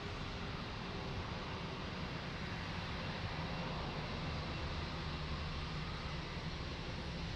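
A large airliner takes off from Lisbon Airport with a broad, steady engine roar that fills the whole clip, constant and fairly distant, with no voices.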